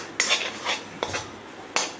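A spatula scrapes and clinks against a pan while masala fries for a pointed gourd curry, three or four distinct metallic strokes spaced unevenly, close and clear with no talk.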